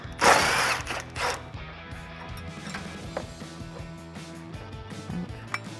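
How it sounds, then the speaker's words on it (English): A ratchet and socket on an extension backing out a 10mm bolt on a 2004-2008 Ford F150 front bumper, giving quiet, uneven clicking and metal rattles after a louder clank at the start, with no talking. "Grab your extension and socket and get that off"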